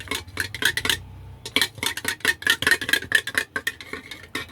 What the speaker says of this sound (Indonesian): Untuk bahan basahnya ini dikocok lepas terlebih dahulu.